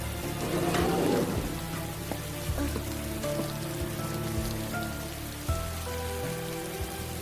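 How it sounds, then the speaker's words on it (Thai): Steady rain falls on a surface in an animated scene, a continuous hiss of drops with soft musical tones underneath, moderately loud and steady throughout with no talking. "รอฝนหยุดหน่อยไหม"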